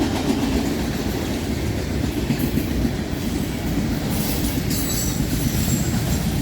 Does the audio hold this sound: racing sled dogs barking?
no